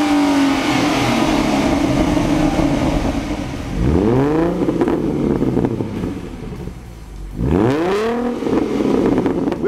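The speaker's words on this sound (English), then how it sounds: "For Stage 2, we installed a new set of axle-back exhausts to give the car a more aggressive sound." A 2011 Ford Mustang V6 with axle-back exhausts, a 3.73 rear gear and a limited slip differential, idles with a loud, deep burble, then revs up and falls back twice in sharp, aggressive sweeps heard close by.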